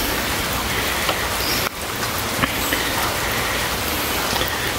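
Steady rain falls on a garden, a dense, continuous hiss of drops with no pauses and a brief dip midway, with scattered individual drop taps within the wash.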